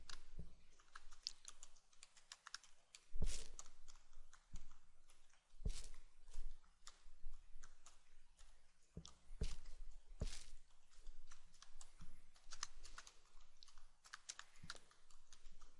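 Event details for a Google Calendar entry being typed on a computer keyboard, a quiet, steady run of close key taps with occasional louder strokes and short gaps.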